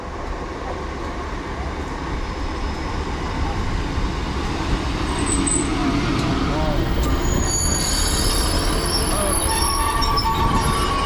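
A class 152 passenger train pulls into Dawlish Warren station in Devon, its wheels squealing loudly against the rails over a steady rolling rumble that builds as the train draws closer.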